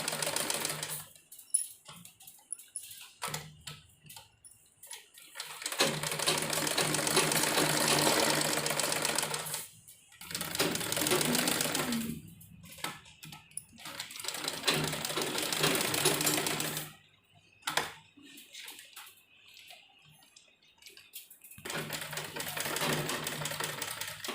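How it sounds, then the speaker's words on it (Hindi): A sewing machine runs long basting stitches around the front and back pieces of a baby dress, whirring in several sustained bursts separated by brief pauses, close and steady with no talking. "सबसे पहले हम इसके चारों तरफ दोनों अपने आगे पीछे के पीस पर इस तरह से कच्ची सिलाई लगा देंगे"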